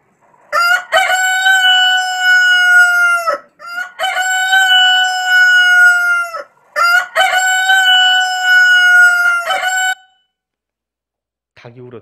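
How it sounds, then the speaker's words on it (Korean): A rooster crows three times in a row, each call loud, close and drawn out over a few seconds, separated by short gaps, with silence afterward and no talking. "닭이 울었지요."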